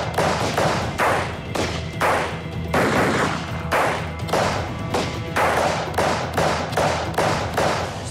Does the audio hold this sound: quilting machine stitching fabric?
no